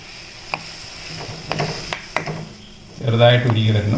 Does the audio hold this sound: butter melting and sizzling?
yes